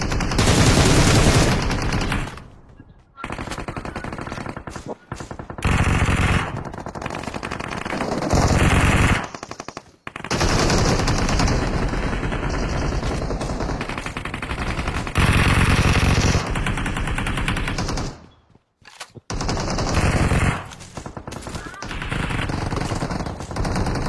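A toy machine gun fires long rapid bursts, loud and close, broken by short pauses over roughly twenty seconds, with no talk.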